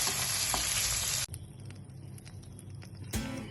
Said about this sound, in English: After a minute and a half, we turn the fish.